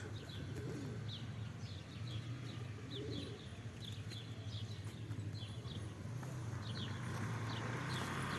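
Pigeons cooing and chirping outdoors, with repeated short calls scattered throughout over a steady low background rumble.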